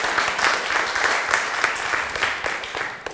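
Close, lively applause from a conference audience at a humanitarian innovation event, steady and dense throughout the short span.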